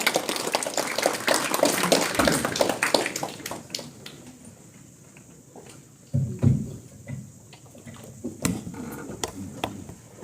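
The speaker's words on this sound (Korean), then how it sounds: "우리 손현아 원장이 힘찬 박수로 모시도록 하겠습니다" Audience applause at a graduation ceremony for health counsellors, welcoming the director to the stage. It is a dense burst of clapping for about four seconds, then thins to scattered claps and light knocks.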